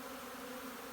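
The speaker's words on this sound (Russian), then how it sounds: "Летит пчела. Красиво. Гудит пасека." Honeybees buzzing at an apiary in spring sun, a steady, dense hum of many bees in flight filling the air, continuous and even with no voices.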